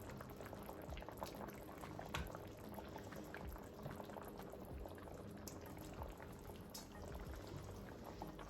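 Lamb jerk stew with diced potatoes simmering in a covered pot, bubbling in a steady, dense, low burble that continues unbroken throughout with no voices.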